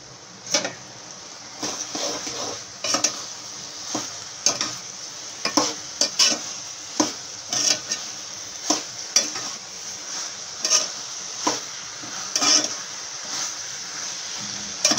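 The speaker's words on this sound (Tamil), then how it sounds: "நம்ம வதக்கி வச்சுருக்க வெண்டைக்காயை சேர்த்துக்கலாம்." Sautéed okra sizzles in a tomato tamarind curry in the pan while a spoon stirs it, giving loud rhythmic scraping clacks over a steady frying hiss.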